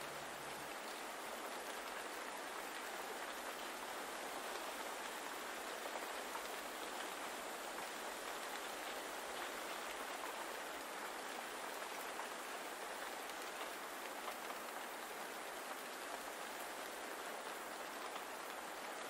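Steady rain pours down continuously in a bamboo forest, an even dense hiss with no pauses or voices.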